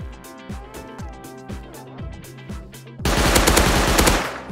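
Gunfire in the survival game Rust, a rhythmic series of loud shots with low thumps, then a dense burst of rapid automatic fire near the end, heard over a musical backdrop.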